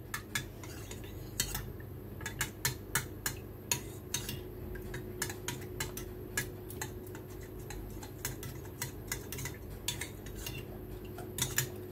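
A spoon stirring milk with agar agar powder for a jelly milk pudding, with rapid, bright clinking taps against the bowl in a steady quick rhythm, close and fairly quiet.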